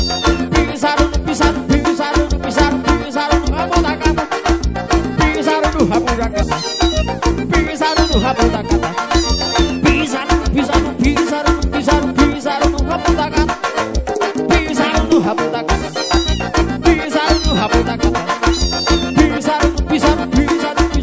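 Cat meows sound again and again inside a lively forró song about a cat whose tail was stepped on. The short mewing calls are woven through dense, loud music.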